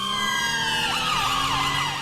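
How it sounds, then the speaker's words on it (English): A police car siren in the video game GTA V, set in London, wailing loudly and continuously with several overlapping sweeping tones and the hum of a vehicle underneath. "Change siren, second siren on."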